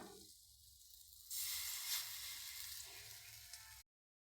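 Lentil batter fritters frying in hot oil in a wok. A quiet low rumble gives way to a sudden bright, steady sizzle that holds for a couple of seconds and then cuts off abruptly.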